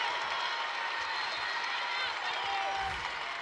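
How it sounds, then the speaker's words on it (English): A volleyball crowd at a state final match cheers and claps in a steady, dense wash of noise filling the gym, sustained throughout without a break. "Can you hear this crowd?"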